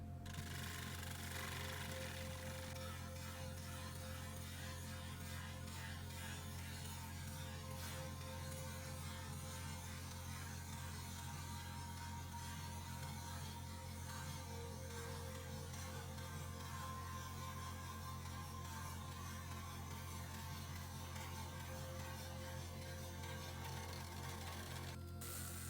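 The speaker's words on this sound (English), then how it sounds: "as I'm getting a bit deeper in, the wood was starting to fight me a little bit, so I'm having to make a few back cuts" A lathe turns an alder live edge bowl with knots and burr patches, producing a constant low motor hum under a steady rough scraping of the gouge cutting the wood, continuous and close without speech.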